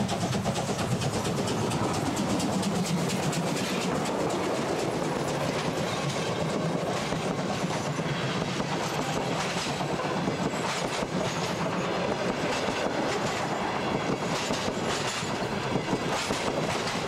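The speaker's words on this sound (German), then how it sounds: "Zug um Zug dampft durch die Stadt." A steam train rolls along the Berlin Stadtbahn with a loud, continuous rumble and rhythmic clickety-clack of wheels over rail joints, steady throughout.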